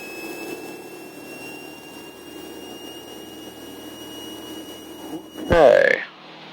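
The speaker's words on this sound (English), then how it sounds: "We have positive rotation, and we are airborne." A Cessna light airplane's engine drones steadily through takeoff, heard from inside the cabin, before a brief loud burst of cockpit noise near the end.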